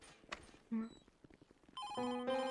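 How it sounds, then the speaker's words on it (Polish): A telephone rings in the video game GTA V, a loud repeating electronic ringtone that comes in after scattered game sounds and a brief tone. "O, telefon, dobra."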